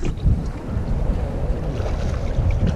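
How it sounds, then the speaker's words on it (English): Wind gusts across a fishing boat out on Gull Lake during late-season walleye fishing, a steady rumbling buffet against the microphone with low churning noise and no talk. "It's windy. It's windy."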